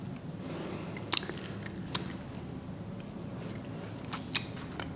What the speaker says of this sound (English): Better with every bite, the flavors start coming out more and more as you chew on it.